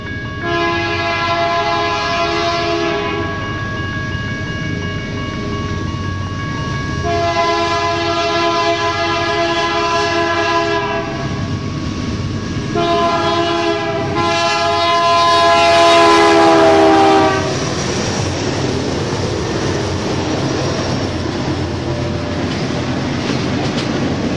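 A BNSF freight train passes close by in Kingman, Arizona, its loud multi-chime horn sounding in three long blasts over the steady rumble of rolling cars, with the rumble carrying on after the horn stops.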